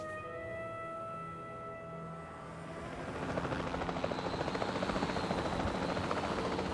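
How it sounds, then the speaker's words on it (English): Helicopter in the video game Jurassic World Evolution 2, a steady droning whine that swells louder and gains a rapid rotor chop partway through, with no talking. "Let's click on the helicopter."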